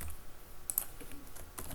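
Keys clattering on a computer keyboard while a comment is entered into a web form, a quiet run of close, light clicks with no voices.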